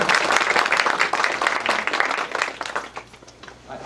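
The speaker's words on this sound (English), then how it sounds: "Give a nice round of applause for Joe Finley." A round of applause for a person at a press conference for the Iron Pigs, with dense clapping from a small crowd that stays steady and then thins toward the end.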